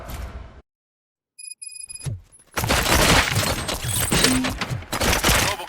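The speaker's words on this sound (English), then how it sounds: "Gunshots? What's going on?" Gunfire in the RoboCop Rogue City video game: a brief thud and clatter, a stretch of near silence with electronic beeps, then a dense, loud burst of shots, impacts and debris lasting several seconds.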